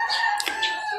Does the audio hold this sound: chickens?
yes